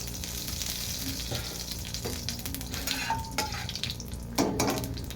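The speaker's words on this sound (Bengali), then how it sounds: "তেল আমার গরম হয়ে গেছে আমি কালো জিরেটাকে দিয়ে দিলাম" Black cumin seeds sizzle in hot oil in a pan, a bright crackling fizz broken by a few sharp clinks and scrapes of a utensil against the metal.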